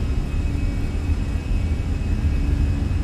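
Fenix A320 jet engines spooled to takeoff power in Microsoft Flight Simulator, a steady, loud low-frequency roar and rumble that holds without a break from start to finish, with a faint high whine above it.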